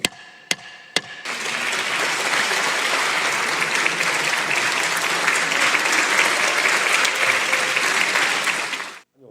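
Sustained applause fills the National Assembly chamber after a few sharp gavel-like knocks at the start, a dense, steady roar of many hands that holds for several seconds before cutting off.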